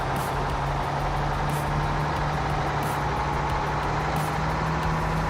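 A large truck engine runs steadily nearby, a loud, continuous low rumble and drone with no pauses throughout.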